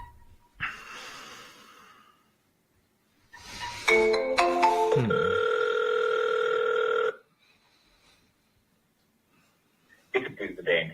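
Outgoing phone call ringing on the line: a burst of layered electronic tones settles into a steady sustained ring for a few seconds, framed by quiet gaps and short rustling noises.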